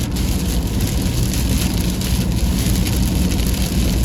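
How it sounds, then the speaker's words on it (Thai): Heavy rain pours down steadily in Wiang Sa, Surat Thani, a loud, dense, unbroken hiss and patter with no voices. "ฝนตก"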